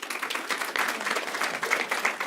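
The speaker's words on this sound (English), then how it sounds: "Please give one last round of applause to Allie." An audience applauding after a talk, dense steady clapping from many hands, moderately loud and continuous for the whole span.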